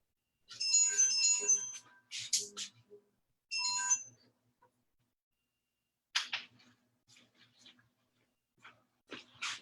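A mobile phone ringtone from a phone charging against a wall plays in short bursts of bright electronic tones separated by silences, fairly faint and alone.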